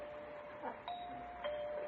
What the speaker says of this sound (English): why is he ringing the doorbell after I left him that note?